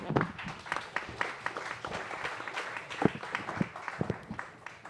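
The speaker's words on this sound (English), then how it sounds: "Let's give him a round of applause." Scattered, light clapping from a small audience, fairly faint and uneven, fading in and out over a few seconds.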